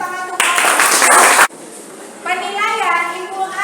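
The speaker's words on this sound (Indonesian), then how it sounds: "beri tepuk tangan untuk" Applause for a class presentation in a classroom: a dense burst of many hands clapping together for about a second, ending abruptly, then voices talking.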